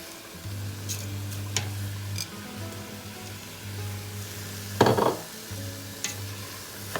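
Rice with salt is stirred in a hot pot, a steady low sizzle running throughout with occasional scraping spoon strokes and one louder scrape near the middle, close and without talk.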